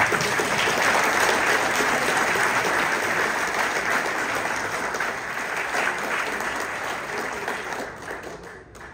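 A cycling club's fiftieth-anniversary general assembly audience breaks into steady, loud applause that holds strong and then tapers off gradually near the end.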